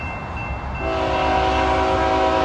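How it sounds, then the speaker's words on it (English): A northbound Norfolk Southern intermodal freight train at Lockland, Ohio, its horn sounding a sustained blast that starts partway through over a low rumble of the approaching train, loud and close. "we've got this northbound intermodal coming here."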